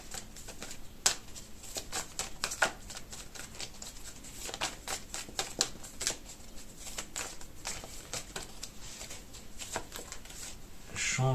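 Fortune-telling cards being shuffled and drawn, heard as close, soft, rapid riffling and flicking clicks repeating in quick bursts for the whole stretch.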